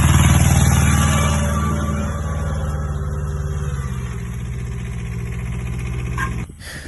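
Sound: Kubota B1-10 mini tractor engine pulling two-furrow plough

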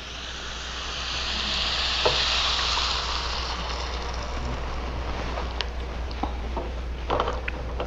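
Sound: thin coconut milk poured into sizzling mushroom curry

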